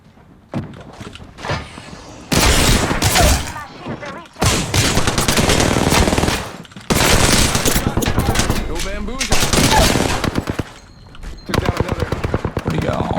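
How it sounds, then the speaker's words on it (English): Gunfire during an Apex Legends match, heavy automatic bursts and overlapping shots in several loud stretches with brief gaps, with mechanical clunks mixed in and some game voice lines. "Taking fire."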